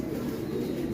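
Soft, steady cooing of egg-laying pet pigeons in a loft, a continuous low murmur throughout with no other sounds over it.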